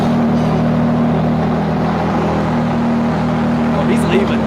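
A Ford GT's engine purrs and rumbles steadily as the car pulls away, a continuous loud low drone that holds without clear revving.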